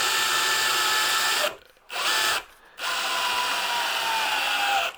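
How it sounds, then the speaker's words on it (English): Power drill driving a screw into a wooden dowel, a loud, close, steady whine broken by two brief pauses before running on again. "Steady the dowel while I start the screw in."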